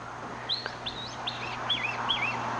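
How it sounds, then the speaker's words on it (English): A pet bird freshly woken at night gives a run of about five short, bright, warbling chirps in quick succession, close by, over a low steady room hum. "Well, I woke up one of the birds."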